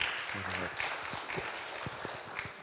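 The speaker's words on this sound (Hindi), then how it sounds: "क्यों ना जोरदार तालियों के द्वारा उनको स्वागत करें" A Sunday congregation at a Hindi church service gives the pastor a brief, modest round of clapping, a loose spatter of hands with a voice heard at the start.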